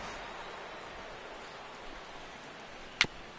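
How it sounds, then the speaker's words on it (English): Steady soft rain hiss in a PS4 baseball video game, a continuous even wash with a single brief sharp knock near the end. "the rain continues to fall here"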